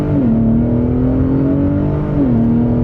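A third-generation Ford Raptor truck is floored at full throttle, its engine droning loud and close with a steady rising pitch that dips at each upshift, about two gear changes in under three seconds, with no voices.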